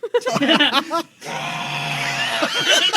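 A tabletop role-play player lets out a long, loud in-character scream, sustained and strained, right after a burst of close chatter, with more talk and laughter resuming at the end.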